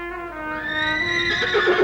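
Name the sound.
horse neighing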